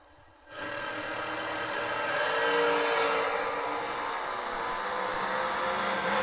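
A Top Fuel dragster blasts down the drag strip, its engine bursting in abruptly and holding a loud, sustained roar that swells and stays heavy to the end.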